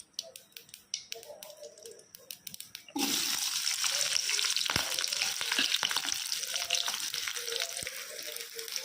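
Onions and two green chilies hit hot oil after mustard seeds have popped, for a Tamil manathakkali keerai poriyal; a faint stir gives way to a loud, steady, close sizzle that fills the rest without any talk.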